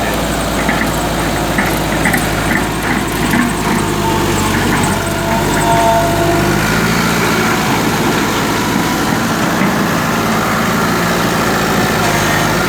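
The diesel engine of an SKO45 backhoe idles close by, loud and continuous with an uneven, slightly rough rumble and no talking.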